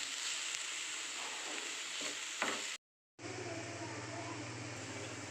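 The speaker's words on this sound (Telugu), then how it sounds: "ఇప్పుడు ఇందులో తగినంత సాల్ట్ వేసుకోవాలి సాల్ట్ వేసుకొని కలుపుకోవాలి మొత్తం కలిసేలాగా" Shredded cabbage curry sizzles steadily in a pan as salt is stirred through it, a close, even frying hiss with some scraping, cut off by a brief silent gap before the sizzle resumes.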